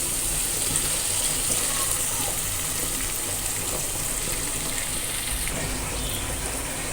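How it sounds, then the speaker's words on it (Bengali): Boiled beef is poured into spice paste frying in oil with ginger-garlic paste, giving a close, steady sizzle and watery hiss that holds evenly throughout with no talking. "এবার এই সেদ্ধ করা মাংসগুলো দিয়ে দিব ঢেলে।"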